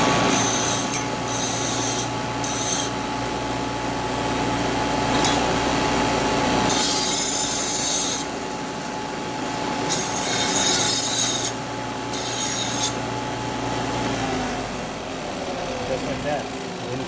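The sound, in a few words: belt sander cleaning edges of metal charge pipe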